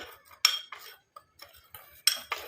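A spoon clinking against a bowl while turmeric powder is stirred into a cooled mixture, a handful of sharp metallic taps in irregular bursts with quiet gaps between, close by and alone.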